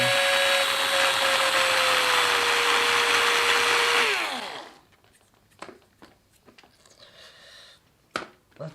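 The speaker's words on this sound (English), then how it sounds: "got a slightly bigger drill bit here" A power drill with a larger bit whines loudly and steadily for about four seconds while drilling tuner holes in a Telecaster-style guitar headstock, its pitch dropping as it winds down, followed by scattered clicks and handling noises.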